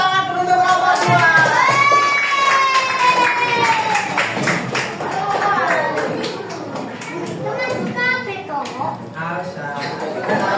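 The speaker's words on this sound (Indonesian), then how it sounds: "beri tepuk tangan dulu untuk kelompok 2" Children in a classroom clap for a group of classmates, a dense patter of hands mixed with excited young voices calling out over the top, lasting throughout.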